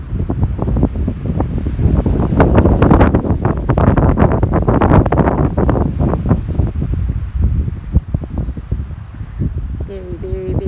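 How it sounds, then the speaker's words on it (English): Strong wind buffets the microphone on an island on Willow Island Lake, a steady roaring rush with gusty surges throughout, close and loud. "Very, very, very windy."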